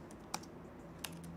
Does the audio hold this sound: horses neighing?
no